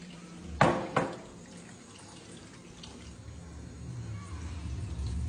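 A small child's toy bunny washed under a running tap at a sink, with a steady stream of water building and splashing in the background alongside a couple of sharp knocks near the start.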